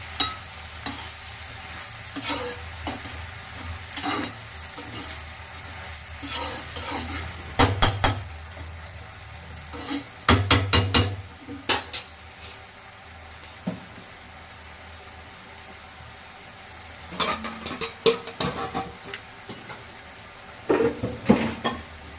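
Masala ingredients for a crab gravy being stirred and sautéed in a pan, soft sizzling under bursts of a spoon scraping and clattering against the metal, with quieter stretches between.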